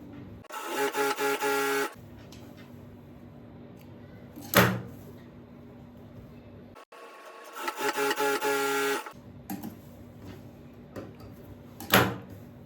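A sewing machine stitches a blouse lining in two separate runs of fast, whirring needle chatter, close by, with quiet handling and a couple of sharp knocks between the runs.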